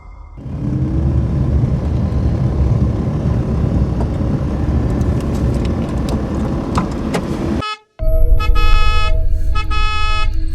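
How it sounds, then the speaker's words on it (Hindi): A car horn blares repeatedly at a stopped traffic signal, loud sustained honks over street rumble, cutting out briefly before another long blast resumes. "देख लो इस बदतमीज को कैसे हॉर्न बजा रहा है"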